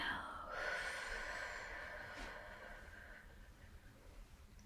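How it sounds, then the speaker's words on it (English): A slow, deep breath is drawn in, held, and then released in a long, soft exhale. It is quiet and close, with a gentle airy hiss that fades steadily, set in a calm relaxation session. "Deep breath in. Hold and exhale."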